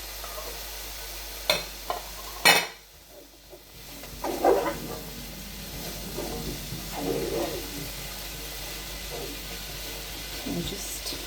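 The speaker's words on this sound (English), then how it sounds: "keep this moving around so it doesn't stick, doesn't catch" Sausages fry in a pan while being stirred, a soft sizzle under scraping and knocking from the utensil, with a couple of sharp clatters early on and a voice talking faintly over it.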